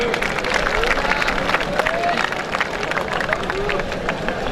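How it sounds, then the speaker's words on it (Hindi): A crowd at a volleyball show match applauds loudly, the clapping mixed with steady babble and shouting voices nearby. "जोरदार तालियां जी"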